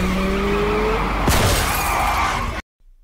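A motorcycle crash in an action film, with a sharp shattering impact and skidding scrape over loud, dense background scoring and effects, ending abruptly.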